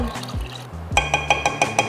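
Liquid pours steadily into a pot of water with a rising gurgle, then a brisk run of rhythmic metallic clinks follows as it is whisked.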